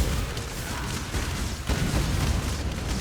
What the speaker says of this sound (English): Oh god, more explosions.